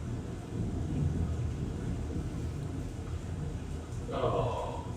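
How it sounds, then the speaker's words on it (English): Low, rolling thunderstorm rumble runs steadily through the background of a tabletop role-playing session, a broad continuous murmur with a brighter swell near the end. "Do you hear that ominous thunderstorm in the background?"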